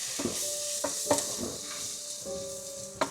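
Garam masala frying in a pan for a Kerala-style Malabar chicken curry, stirred in a few scraping strokes over a steady close sizzle with light clinks of the spoon, no talking.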